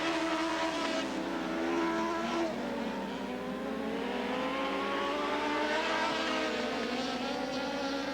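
Race cars circling the oval at Southern Oregon Speedway near the end of a race, engines droning steadily and loudly throughout with rising and falling pitch as they pass, no talk.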